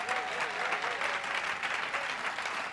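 A church congregation at a consecration ceremony applauds steadily, dense sustained clapping filling the space at an even loudness throughout.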